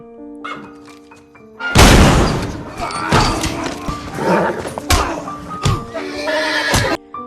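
A horse whinnies loudly and shrilly in a stable, close by, over a noisy, cluttered background with thuds and a dog-like bark in a dramatic mix.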